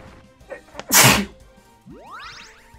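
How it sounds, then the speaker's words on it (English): A single loud, close human sneeze bursts out, preceded by a short inhale and followed by a few brief vocal sounds. "Ooh, I gotta sneeze."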